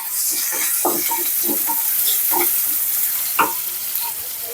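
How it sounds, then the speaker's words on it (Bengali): Fish frying lightly in a pan of hot oil for an iftar meal, giving a steady close sizzle and crackle throughout with a few sharper spits and pops. "হালকা হালকা করে মাছটা ভাজছি"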